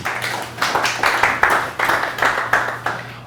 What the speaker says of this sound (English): I'll take the applause before because I may not get one after.